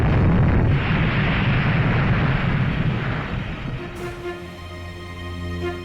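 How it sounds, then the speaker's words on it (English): Missiles roar up out of open silos in a loud, sustained rocket-launch blast, a dense rumbling roar that gradually fades and thins over several seconds. "10 rockets were launched"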